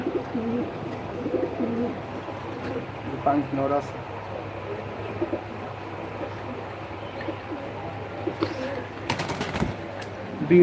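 Pigeons give low, soft cooing in a loft during a live session on pigeons. Someone talks over the birds throughout, and there is light background noise.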